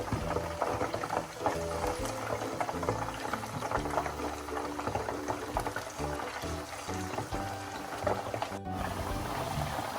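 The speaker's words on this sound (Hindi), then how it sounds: "और इसी तरह हमने सारा चिकन फ्राई कर लेना है।" Chicken pieces frying in a pan produce a constant, bubbling, crackling roar of hot oil that stays close and even from start to finish, with no talk.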